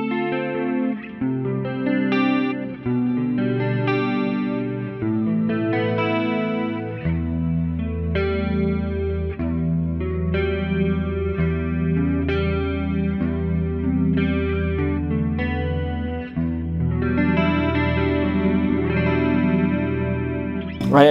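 Clean-channel electric guitar through a Kemper profile of a Mesa/Boogie John Petrucci JP2C amp plays sustained chords and melodic lines, shimmering with chorus, delay and reverb, loud and continuous.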